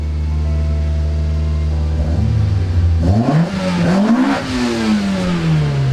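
A Toyota engine running on a standalone ECU idles with a steady low hum, then is revved toward about 2,000 RPM, its pitch climbing and settling at a higher, louder drone; close and clear, with no talking.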